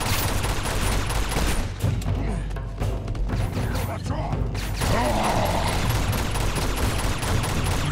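Rapid gunfire in the action game Uncharted 2 at a monastery, loud continuous bursts and thuds throughout, with voices talking over the shooting.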